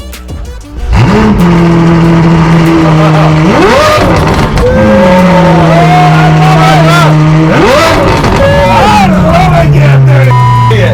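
A Ferrari 812 GTS with a loud aftermarket exhaust starts and revs hard several times, its engine note climbing and falling in long, close, very loud sweeps that fill the whole stretch.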